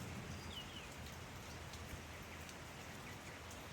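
Steady rain falls on an outdoor farmyard with a dense, even hiss of drops hitting surfaces, constant and moderately loud with no voices.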